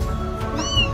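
Small kitten rescued by a firefighter gives a single short, rising meow, close and clear over a faint steady background hum.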